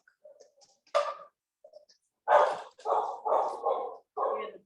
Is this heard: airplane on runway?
no